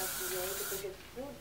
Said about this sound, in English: Take your favorite bottle of hairspray. Mine is the Walnut Satin Hairspray Stronghold.